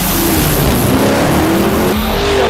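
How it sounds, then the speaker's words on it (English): A race car engine roars continuously, loud and close, holding a steady high rising drone with tire noise and no pauses. "Listen to the engine."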